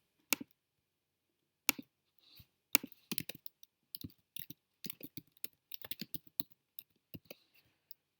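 Computer keyboard typing in a spreadsheet, with irregular bursts of sharp clicks and key taps broken by short pauses, close and clear with no voices.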